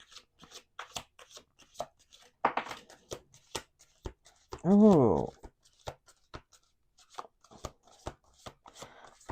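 Tarot cards are shuffled and tapped on a table in quick close-up bursts of riffling and clicks, with one short vocal exclamation in the middle.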